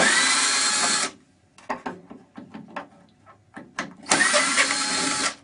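A power drill unscrewing screws from a TV whirs steadily for about a second, then a series of clicks and light clunks, then the drill runs again in another sustained whine.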